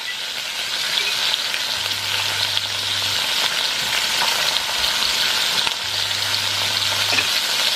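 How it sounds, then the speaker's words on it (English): Bacon sizzling and frying in a pan, a loud continuous crackle with a low hum in the background and no voices. "while that bacon is cooking"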